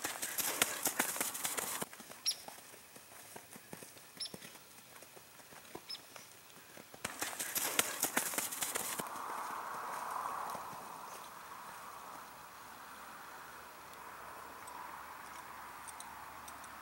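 A horse at a shortened, slow walk gives a steady run of soft hoof falls, with two louder, noisier stretches of movement and a faint hum later on, and no talk.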